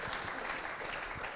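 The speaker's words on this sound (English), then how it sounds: "Applause." A film festival panel audience applauds with steady, dense clapping that fills the short moment evenly at moderate volume, no voices over it.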